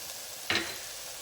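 Spices, including red chili, coriander powder and garam masala, frying in a pan for egg curry: a brief, sharp sizzling burst rises over a faint, steady hiss, then quickly settles.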